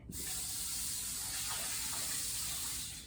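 Tap water runs steadily into a cooking pan for about three seconds as it is rinsed out, a continuous hissing splash with no talking.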